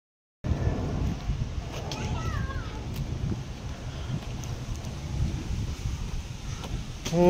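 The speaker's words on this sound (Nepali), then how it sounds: "कस्तो दामी हावा आयो" Strong wind buffets the microphone during a scooter ride on a Buddha Jayanti outing toward a monastery, making a steady, loud, low roar that fills the whole clip and swells slightly near the end.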